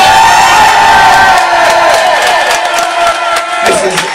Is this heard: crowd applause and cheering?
yes